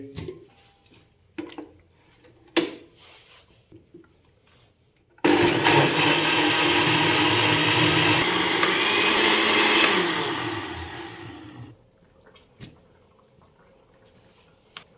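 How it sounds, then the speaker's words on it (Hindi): A blender whirs loudly for about five seconds blending cooked spinach, its motor pitch dropping as it winds down, with clattering and handling noises before and after. "हमने अच्छे तरीके से इसको ब्लेंड कर लिया"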